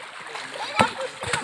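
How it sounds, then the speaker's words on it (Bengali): Water splashes during swimming practice, with two sharp bursts of splashing over a low background of moving water and voices nearby. "আলিফ আলিফ সামনে পানি কাটতে শিখো"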